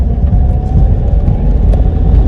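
Car wheels spinning on an icy road in freezing weather, giving a continuous loud low rumble with a churning engine drone that stays steady throughout.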